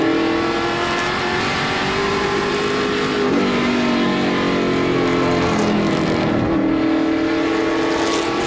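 Pro Stock race cars at Wiscasset Speedway roar steadily through the final turns, a loud sustained engine drone with shifting pitch as cars pass, no voices over it.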